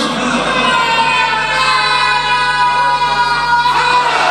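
At a Shia majlis gathering in Chak Shian, Gujar Khan, a large crowd chants the slogan Haidri in a loud, sustained unison roar that holds steady, harmonic and strong, for several seconds.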